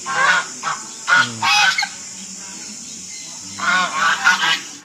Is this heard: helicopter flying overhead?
no